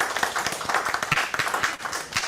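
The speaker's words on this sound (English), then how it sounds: "Can we get a warm round of applause?" An audience at a Caribbean Internet Governance Forum conference plenary session claps in a dense, steady round of applause throughout.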